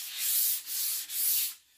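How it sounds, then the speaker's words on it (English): Three steady back-and-forth strokes of a sanding sponge rub across painted wood furniture, a close, dry hissing scrape with brief pauses between passes. "I'm just going to take my sanding sponge and do a single pass over the top"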